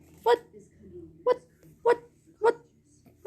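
A dog gives a string of short, sharp vocal bursts, five evenly spaced yelps or barks over a few seconds, fairly close, with a faint background murmur between them.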